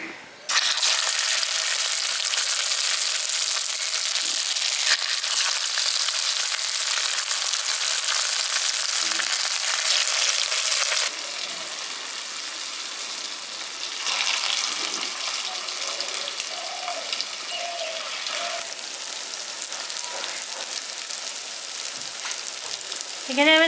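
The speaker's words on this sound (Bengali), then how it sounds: "এবার এগুলো আগে হালকা করে ভেজে নিচ্ছি উল্টে পাল্টে" Chicken and potato kebabs shallow-fry in oil, a loud continuous sizzling hiss that eases after a pause midway, with occasional pops and spatula taps nearby.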